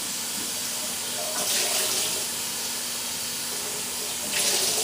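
Aquarium filter pads rinsed under a running tap: a steady broadband hiss of flowing water, with two brief louder splashing surges as the pads are moved through the stream.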